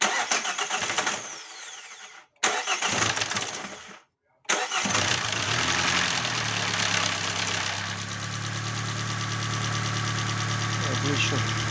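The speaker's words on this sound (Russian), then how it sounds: "Hyundai i40, первый запуск после капитального ремонта." A Hyundai i40 with a 2.0 G4NA engine starts for the first time after an overhaul. The starter cranks in short bursts broken by brief gaps, then the engine catches and settles into a steady, even idle.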